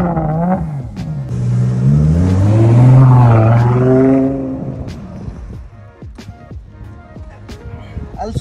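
Ferrari Monza SP2 supercar engine revs up loudly with rising and falling pitch, then settles into a lower idle with some sharp clicks, and a voice is heard briefly at times.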